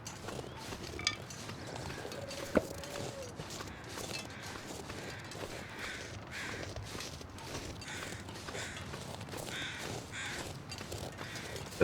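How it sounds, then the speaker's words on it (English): Crows caw faintly and intermittently in the video game The Long Dark, with occasional creaks and footstep-like sounds over a constant noisy ambience. "There's some crows, non-interactable."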